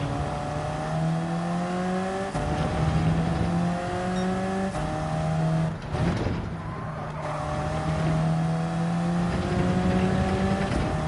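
A race car engine in Gran Turismo 7 drones at high revs, with repeated rising gear pulls and a brief dip as the throttle eases through a corner, loud and continuous without talk.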